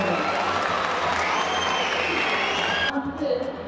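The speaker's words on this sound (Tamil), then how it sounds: "நீங்கள் இன்று சிறப்பாக வாழ்வதற்கு இந்த ஆசிரியருக்கு அனைவரும் சார்பாக கரகோஷத்துடன் நன்றியை தெரிவிக்க வேண்டும்." Audience applause for a teacher at a school celebration, a dense steady wash of clapping with a voice and tonal sound over it, fading at the end.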